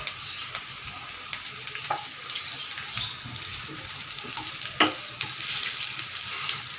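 Onions fry in a hot pan for a crispy taro root fry, giving a steady, close sizzling hiss with small crackles and no talking.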